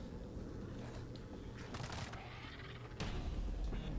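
Bursts of rapid gunfire crackle over a steady noisy background in the video game World War Z, Tokyo level, with a louder sustained volley toward the end.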